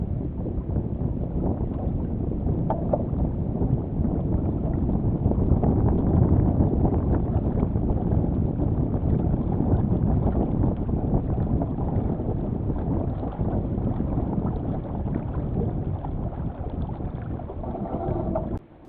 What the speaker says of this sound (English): the winds again start to pick up a little bit